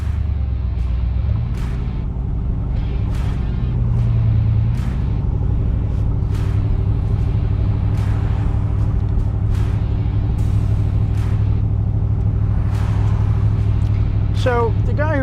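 A restored 1966 car pulls away in third gear with a loud, steady low engine drone, while someone talks over it throughout.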